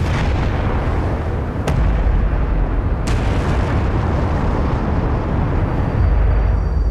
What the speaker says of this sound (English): When suddenly, there's a huge explosion.